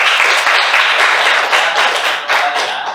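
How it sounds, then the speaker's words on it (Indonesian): Applause from a classroom audience during a teaching performance assessment, a dense steady wash of clapping close by for about three seconds without pause. "Beri tepuk tangan dulu untuk David ya"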